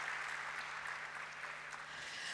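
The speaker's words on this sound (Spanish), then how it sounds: "un aplauso para él" Applause from the audience at a national debate final honoring a regional deputy, a steady, even wash of clapping lasting throughout with no voices over it and a faint low hum beneath.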